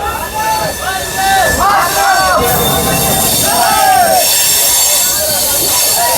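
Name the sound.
Amrit Bharat Express train departing Rajendra Nagar Terminal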